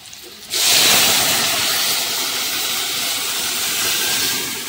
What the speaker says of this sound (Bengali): তো চলো এবার এতে এই যে সিদ্ধ করে রাখা মুগ ডালটা দিয়ে দেব।